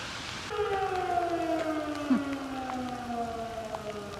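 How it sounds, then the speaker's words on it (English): An outdoor siren wails in town in Haines, its tone gliding slowly downward, moderately distant, with light rain pattering in the background. "There's a siren."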